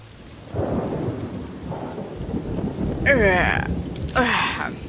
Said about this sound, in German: Und es schifft schon wieder, ist klar. Es regnet wie aus Eimern.